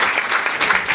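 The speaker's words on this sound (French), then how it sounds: "Mon Dieu, on peut l'applaudir," Comedy club audience in Brussels applauding, a brief burst of dense, even clapping from a crowd, fairly loud and close.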